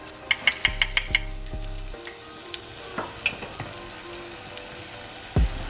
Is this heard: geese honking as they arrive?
no